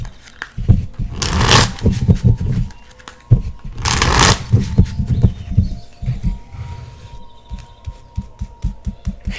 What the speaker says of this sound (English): So let's go ahead and shuffle these cards.